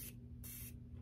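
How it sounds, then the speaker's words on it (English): Two short hissing bursts of Morphe Continuous Setting Mist sprayed onto a makeup brush, close and fairly quiet over a low steady hum, with no talking. "I'm going to spray this first."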